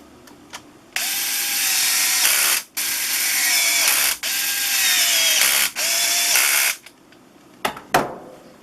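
A power tool whirs in several bursts of a second or so each, separated by short pauses, during tire installation on a Traxxas Slash 4x4 VXL RC car, followed by a few sharp clicks at the end.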